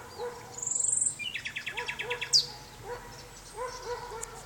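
A nightingale perched in a pine tree sings outdoors, a fast run of repeated clear notes, then whistled phrases and a sharp upward call, with a dog barking faintly in the distance.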